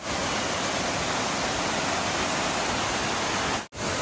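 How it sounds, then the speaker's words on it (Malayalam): A snow-fed stream rushes at Zojila Pass, a constant loud broadband roar with no talking, briefly cut off near the end. "ഇതൊരു വെള്ളം പോകുന്ന സ്ഥലമാണ്."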